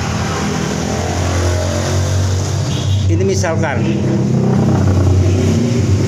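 A carbureted motorcycle engine runs steadily after starting during carburetor tuning, a continuous low hum with a brief rise in revs midway, heard under someone talking nearby.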